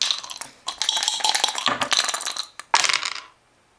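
Dice rattle and clatter on a tabletop during a board game, with a long tumbling roll followed by a second quick bright roll that settles into silence.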